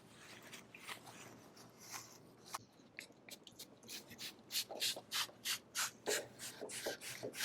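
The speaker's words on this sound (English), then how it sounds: "Now that I've brushed these rusted spokes" Stiff brush scrubbing the rusted wire spokes of a 1968 BMW barn-find motorcycle wheel during its first wash in decades, close and steady, in quick rhythmic rasping strokes that grow louder and more regular toward the end.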